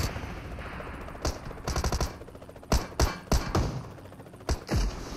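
Gunfire in PUBG Mobile comes in short automatic bursts and heavy thumping shots, close and punchy, with brief rapid volleys separated by gaps.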